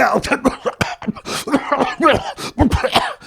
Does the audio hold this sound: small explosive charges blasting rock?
no